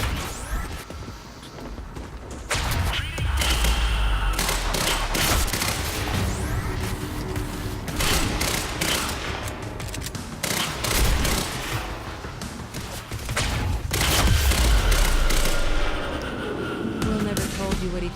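Dense bursts of gunfire from the action game Quantum Break rattle almost continuously, with fusillades that swell and fade amid loud, busy game sounds and some talk mixed in.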